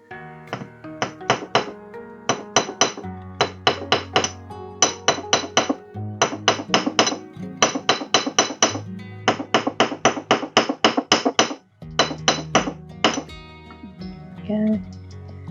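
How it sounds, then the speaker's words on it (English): A hammer taps a wire-wrapped jewelry pendant against a block, delivering quick runs of sharp metallic strikes in bursts with brief pauses, close and loud, and a voice speaks briefly near the end. "Right, I'll just give that a little hammer."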